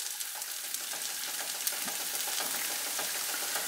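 Red onion thrown into a hot pan for a Spanish omelette, frying with a steady close sizzle and crackle that holds evenly throughout, no talking.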